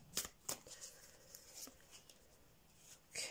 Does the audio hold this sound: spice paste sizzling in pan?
no